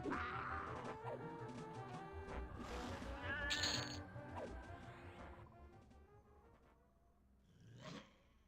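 A cat meows with a drawn-out, wavering call in a game, set against a busy mix of clattering effects, followed by a softer rising meow near the end.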